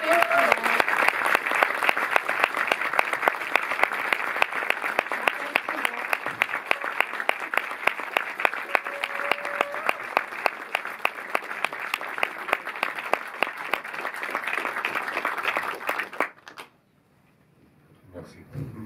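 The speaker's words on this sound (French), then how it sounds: "À accueillir son tonnerre d'applaudissements" At a film festival awards ceremony at the Reflet Médicis cinema in Paris, an audience gives sustained, rhythmic applause for about sixteen seconds, with a few voices underneath, before it stops abruptly into near silence.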